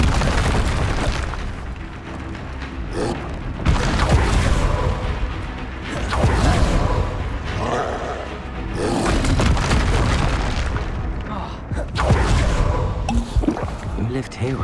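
Expelliarmus and Incendio spells are cast in rapid succession in the video game Hogwarts Legacy, with repeated loud booming bursts and crackling impacts over continuous voiced game audio.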